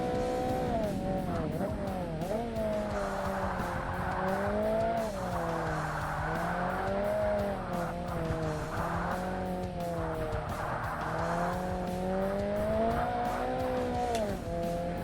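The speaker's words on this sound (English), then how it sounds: "Ah, rev limiter!" Race car engine from the 2005 Xbox game Forza Motorsport, in an Ultra-Lights class, droning steadily at high revs against the limiter with wavering pitch through a lap, continuous and loud, no talk.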